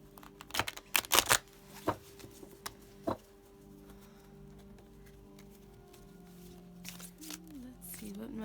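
Large oracle cards are shuffled by hand in a few loud, close riffling bursts early on, followed by quieter handling and soft room noise, with speech heard toward the end.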